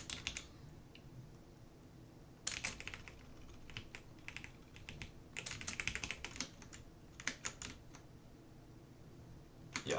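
Someone types code on a computer keyboard, quiet clusters of key clicks in irregular bursts separated by brief pauses.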